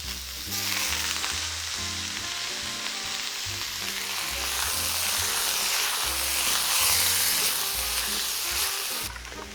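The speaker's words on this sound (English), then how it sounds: "next we're gonna add some of our noodles" Noodles hitting a hot pan for copycat Panda Express chow mein, a loud steady frying sizzle with stirring, close and continuous, with a low rhythmic background beat underneath and no talk.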